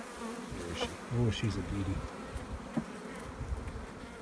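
A dense, steady buzz from a honey bee colony in an opened hive fills the scene close up, with a person speaking briefly over the humming swarm.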